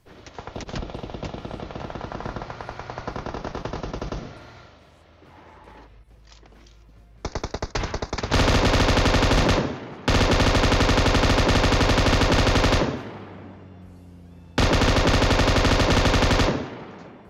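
Rapid automatic gunfire in the video game PUBG Mobile, long loud bursts of shots separated by brief gaps, close and dominant with no talk.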